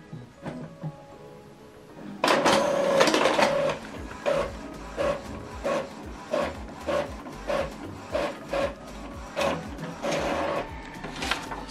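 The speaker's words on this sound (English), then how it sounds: "So this is how to copy our document from Epson EcoTank" An Epson EcoTank printer makes a black-and-white copy of one page. It starts with a quiet whir, then settles into a loud, close mechanical drone with regular rhythmic clunks and ratchets as the paper feeds through.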